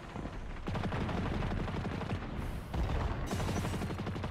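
Scorch cannon blasts from captains in the Destiny video game, a rapid run of loud, dense explosive bursts and booming impacts layered over constant combat noise, with no talking.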